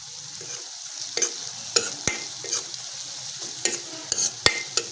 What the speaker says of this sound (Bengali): পেস্ট পেঁয়াজ কুচি সুন্দর করে তেলের উপরে ভেজে নিলাম